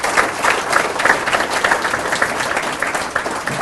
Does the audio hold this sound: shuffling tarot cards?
no